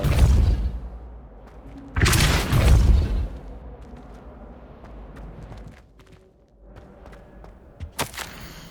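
A Repulso spell blast in the Hogwarts Legacy game: a loud broadband whooshing burst at the start, then a second strong blast, followed by quieter rumbling game ambience and a short sharp crackle near the end.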